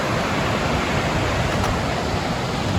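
A waterfall on the Pacific Crest Trail gives a steady, loud, unbroken roar of rushing water that fills the whole clip, with no voices.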